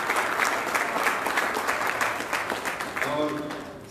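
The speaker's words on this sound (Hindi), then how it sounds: "जोरदार तालियां" Loud, sustained applause fills an auditorium during a live mushaira poetry gathering at KBN Auditorium in Gulbarga, with a voice speaking over the clapping near the end as it begins to thin.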